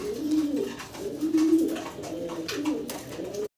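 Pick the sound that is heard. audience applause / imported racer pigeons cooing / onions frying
imported racer pigeons cooing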